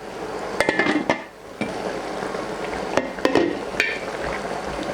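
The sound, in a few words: covering a cooking pot with its lid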